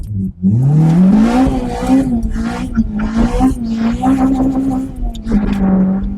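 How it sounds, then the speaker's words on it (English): Honda Civic Type R EP3 engine held at high revs against the rev limiter, a loud, sustained droning engine tone that rises then wavers slightly, heard from inside the car with people talking over it. "Was that it bouncing off the limiter then when you were trying to go?"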